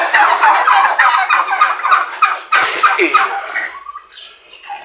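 A flock of turkeys gobbles in loud, overlapping bursts, with a brief pause before the warbling calls resume and taper off.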